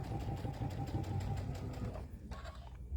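A sewing machine stitches a chenille pillow with a steady, fast, rhythmic mechanical whir that fades slightly near the end, heard alone and fairly faint.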